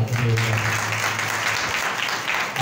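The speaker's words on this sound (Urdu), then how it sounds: "زوردار تالیاں" Loud applause from a church congregation, a dense steady wash of clapping that fills the whole stretch, with no voices over it.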